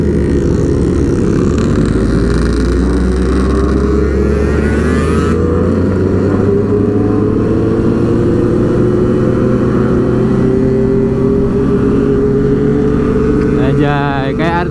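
Several motorcycles idle and rev at close range in a congested traffic jam during a Sunday morning group ride in Lampung, with a steady engine drone throughout and a brief burst of higher revving near the end.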